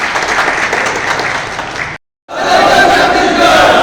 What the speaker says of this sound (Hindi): इनके लिए ताली बजा सकते हैं?